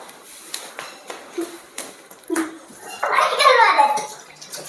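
Running tap water splashes over children's hands at a sink, rising into a loud rushing stream in the last couple of seconds after scattered children's voices and light clatter.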